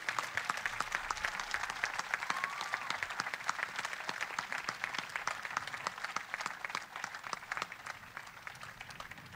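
Enthusiastic applause for a singer, a full crowd clapping steadily and densely for around nine seconds, close and even, fading only slightly toward the end.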